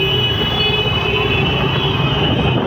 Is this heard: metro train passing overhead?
yes